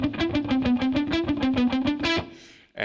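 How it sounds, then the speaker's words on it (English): A signature fast picking lick on a distorted electric guitar, a rapid even run of picked notes holding a steady pitch for about two seconds before a brief pause and a final struck note, loud and alone. "I want to show you what has sort of become my signature picking lick."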